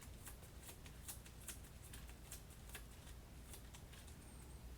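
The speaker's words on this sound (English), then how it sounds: "He's going to shuffle his 2 cards here." Two playing cards shuffled by hand during a tabletop board game, a quiet run of quick riffling flicks repeated in a steady, close rhythm.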